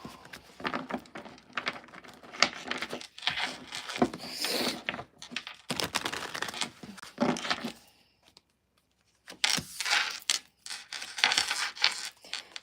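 Tarot cards shuffled and laid out on a table: soft papery riffles, slides and light taps come in busy bursts, with a short silent pause in the middle, close and fairly quiet.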